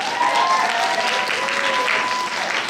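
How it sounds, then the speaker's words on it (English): Loud, sustained audience applause fills a university pageant hall, with some faint cheering or whistles riding over the dense clapping throughout. "Round of applause one more time for praise."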